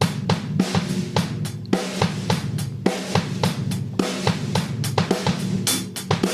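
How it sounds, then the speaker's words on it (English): A full drum kit plays a busy, syncopated Gary Chester "New Breed" style groove of dotted-eighth and sixteenth figures, with crisp hi-hats, punchy snare hits and a steady kick pattern, heard close and loud throughout. "a Gary Chester new breed dotted 8th note 16th kind of thing"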